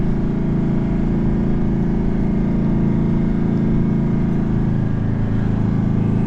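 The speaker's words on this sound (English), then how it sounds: "put the revs on, keep the engine power on, keep the car moving" A car engine drones loud and steady, held at high revs with constant power while the vehicle pushes along a beach track through soft sand, a continuous close rumble with no speech.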